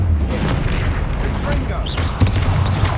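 Confringo and Bombarda spell blasts in Hogwarts Legacy, heavy booming impacts rumbling under continuous battle noise, with a sharper crack near the end, as voices talk over the fight.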